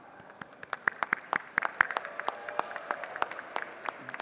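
Sparse, faint clapping from a small number of people in the Texas House chamber, distinct individual claps scattered unevenly over a few seconds, with quiet room tone between them.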